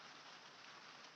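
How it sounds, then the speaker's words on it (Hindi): Winter rain falls steadily in the background, a soft even hiss of drops on surfaces, faint and unbroken, with no voices over it. "आप लोगों को बैकग्राउंड में बारिश की आवाज़ सुनाई दे रही है"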